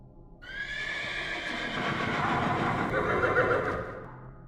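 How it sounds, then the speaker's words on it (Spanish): A horse neighs loudly and close, one long drawn-out whinny that holds for about four seconds with a rough, shaking quality, alone with no talk. "en un determinado momento lo escuché relinchar."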